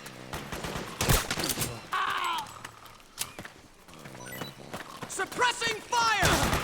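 Video game gunfire from a Metal Gear Solid 4 cutscene crackles in sharp bursts and volleys amid shouted voices and orchestral sound effects, close and loud throughout.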